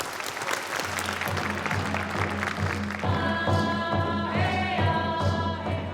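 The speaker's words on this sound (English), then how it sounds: "Please applaud with me and recognize Dr. Lindbergh." Dense applause from an audience at a Native Voices exhibit event in Alaska fills the clip steadily, with music and a voice rising underneath it partway through.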